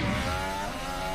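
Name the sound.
Formula 1 car accelerating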